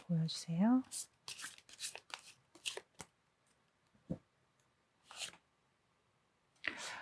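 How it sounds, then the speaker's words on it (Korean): Soft shuffling and slapping of tarot cards being drawn from the deck and laid down in short bursts, close and quiet, with someone speaking at the start. "두 장의 카드 또 뽑아 보도록 하겠습니다"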